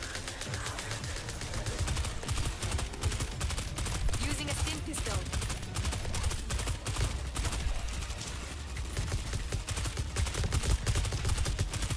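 Continuous gunfire while shooting zombies in World War Z, the Tokyo mission on extreme difficulty: dense, rapid rattling shots running steadily throughout at a fairly even loudness.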